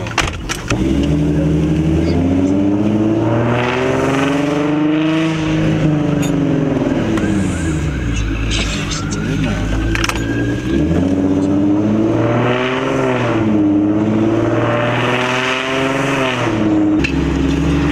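An Infiniti G35 coupe in manual mode accelerates hard through the gears, its engine revving up loudly and dropping with each shift in a rising, falling pattern, heard close from inside the car.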